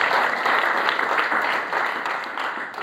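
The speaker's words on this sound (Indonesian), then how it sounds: "Tepuk tangan yang terbaik buat Tuhan Yesus Kristus." A church congregation breaks into loud applause during a sermon, a thick wash of many hands clapping close and steady, tapering a little in the final second with no talk over it.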